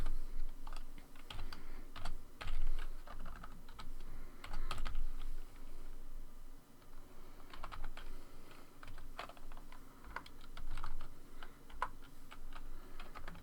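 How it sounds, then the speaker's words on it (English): Rapid, uneven keystrokes on a computer keyboard while entering a long web address at a terminal during a Raspberry Pi 3 setup, a dense run of close clicks and taps with brief pauses and no talk. "hold on real fast while I type in all of this URL, because it's long"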